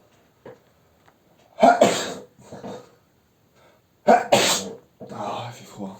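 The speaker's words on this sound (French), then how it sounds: "Je vais un peu éternuer." Two sneezes a few seconds apart, each with a sharp breathy burst and a short vocal trailing sound after it, close and fairly loud.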